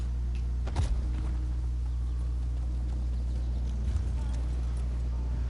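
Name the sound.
horse hooves clip-clopping in The Elder Scrolls Online video game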